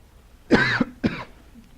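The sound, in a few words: coughing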